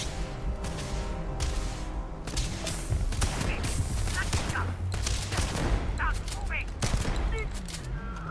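Shotgun blasts from Starfield gameplay, a dense run of loud gunfire bursts over the game's music and ambience, with talk mixed in.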